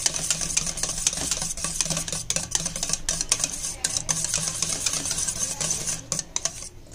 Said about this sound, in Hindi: तो दही को मैं पहले अच्छे से फेंट लूँगी।